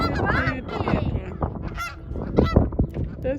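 Geese by the water give repeated loud, nasal honks in irregular bursts, several overlapping calls close by, with a little faint human voice mixed in.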